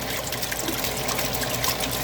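Water pumped by a submersible pump after a capacitor repair, gushing steadily and loudly as it fills, with no voices over the continuous rushing flow.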